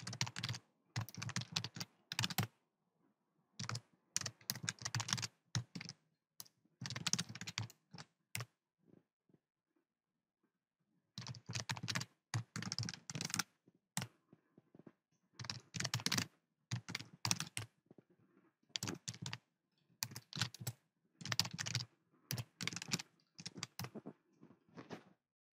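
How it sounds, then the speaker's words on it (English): Computer keyboard typed on in command prompt, with rapid clattering keystroke bursts separated by short pauses, close and fairly quiet, with no voices. "you would be required to type the following commands"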